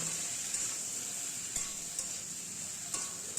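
Spiced mixed vegetables and greens sautéing in a pan give a steady, close sizzle, with a few faint stirring scrapes at intervals and no talking.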